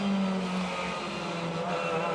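A British Touring Car Championship race car at Brands Hatch GP circuit, its engine droning loudly and close with a sustained tonal whine that dips slightly in pitch, running alone without speech.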